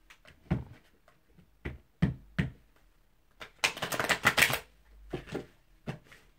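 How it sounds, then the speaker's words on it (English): Tarot cards are handled with scattered taps and flicks, then a quick riffling burst of shuffling, followed by a few more soft card taps. "I have to shuffle again."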